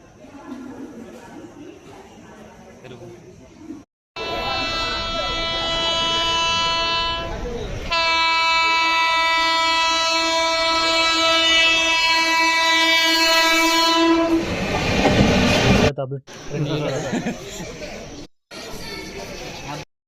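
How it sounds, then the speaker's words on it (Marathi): Train arrives with a loud, sustained horn blast lasting several seconds, after which rumbling wagons clatter past. Faint voices are heard before and after. "तर आपली ट्रेन आलेली आहे आता."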